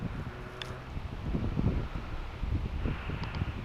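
Wind buffets a camera microphone on a high observation deck, a low rumbling roar that swells and eases in gusts over a faint distant background, with no talking.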